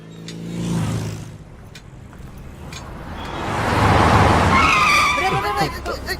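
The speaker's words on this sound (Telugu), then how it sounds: "జాగ్రత్తరా, కారు గుద్దేయగలదు" Tires squeal as a car skids on a street, a rising smeared rush peaking midway with sharp whining squeals near the end, voices present around it.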